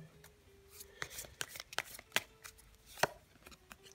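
Tarot cards shuffled by hand in a quiet room, a run of crisp papery riffles and snaps spread unevenly across several seconds, fairly close and soft, with no voices.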